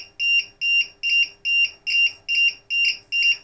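An electronic beeper on a battery charging setup for recovering an over-discharged LiPo pack sounds eight sharp high-pitched beeps in a regular rapid rhythm, close and loud, with no talking.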